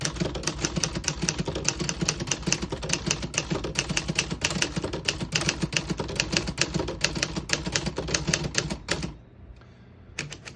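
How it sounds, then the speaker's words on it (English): A 1953 Remington Quiet-Riter portable typewriter typing a line in red ink, with rapid, close, crisp keystrokes in a steady rhythm that stop abruptly near the end, leaving near silence. "I'll type a sentence in red on the next line."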